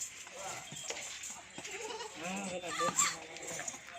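Rajanpuri goats bleat at a goat farm, several wavering calls rising over a busy background of farm noise and nearby chatter, moderately close and overlapping.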